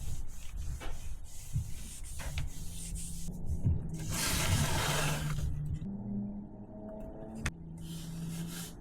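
An abrasive pad scrubbed over sealer on a caravan floor during a vinyl flooring renovation, giving a quiet, steady rasping rub with a few small knocks, loudest in a short burst partway through.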